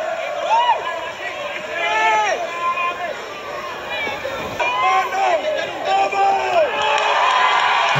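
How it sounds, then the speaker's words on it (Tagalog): A home-court crowd at a basketball match introduction shouts and cheers, a dense roar of many voices with overlapping yells rising and falling throughout, loud and sustained. "Hiyawan ang mga tao dahil syempre home court nga, diba?"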